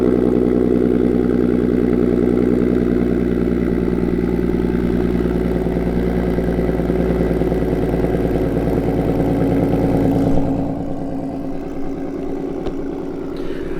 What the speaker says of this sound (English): That beautiful, beautiful cold start, baby.